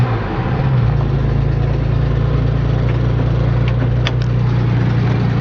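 Old truck engine idling in neutral with new gas in the tank, a loud, steady low rumble that holds evenly throughout with faint clicks on top.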